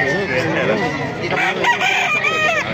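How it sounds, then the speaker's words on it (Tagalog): Roosters and chickens crow and cluck up close at a poultry market in Baliuag, Philippines, with several overlapping crows filling the whole stretch over busy crowd noise. "Ganda ng mga manok dito sa Baliwag."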